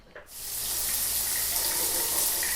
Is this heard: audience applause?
no